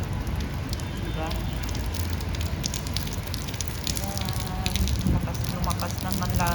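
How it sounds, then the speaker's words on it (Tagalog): Rain falling outside a building, a steady broadband patter and hiss of drops that swells slightly toward the end, with a voice talking faintly over it. "Ayan, oh, yung patak ng ulan."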